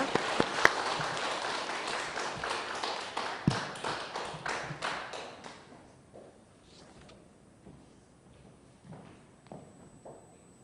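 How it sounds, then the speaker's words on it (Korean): A church congregation at a Japanese-language Korean service applauds to welcome speakers, a dense burst of clapping that thins out and fades to scattered individual claps and quiet room noise. "우리 따뜻한 박수, 큰 박수로 환영했으면 좋겠습니다"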